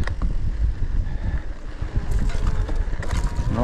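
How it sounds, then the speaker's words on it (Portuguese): Strong wind buffeting the microphone outdoors on a trail, a continuous low rumbling roar with gusty swells and a few faint higher noises near the end. "O vento não tá deixando."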